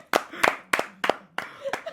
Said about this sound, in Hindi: सब ताली बजाओ भाई के लिए